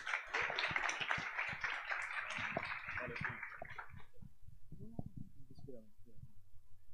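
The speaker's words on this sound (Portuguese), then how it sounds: "Uma salva de palmas para o Guilhermão." Audience applause for a speaker at an entrepreneurship, partnerships and startups talk: dense clapping for about four seconds, then thinning into scattered claps as a voice begins speaking.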